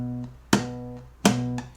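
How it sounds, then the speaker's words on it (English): An acoustic guitar gives two sharp percussive snare-like slaps about three-quarters of a second apart, made by a thumb-picked note plus a finger hitting the soundboard. Each slap is followed by ringing bass notes, close and clear. "Pick with your thumb and also hit the guitar soundboard with one of your fingers here."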